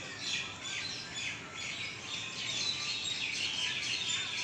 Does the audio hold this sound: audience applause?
no